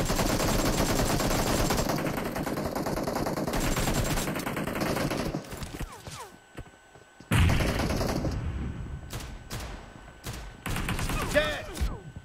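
Gunfire in PUBG Mobile: dense, loud bursts of automatic fire fill the first five seconds, then break off into quieter shuffling before fresh volleys and scattered shots resume near and sharp.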